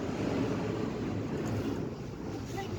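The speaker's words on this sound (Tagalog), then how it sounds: "Grabe ang hangin." Strong wind roars steadily around a cable car in Taif, a dense, constant rushing and buffeting on the microphone with no breaks.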